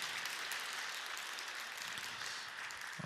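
A church congregation gives a short round of continuous applause, heard faint and somewhat distant.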